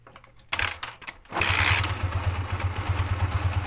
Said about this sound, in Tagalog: so ngayon start na natin yung motor natin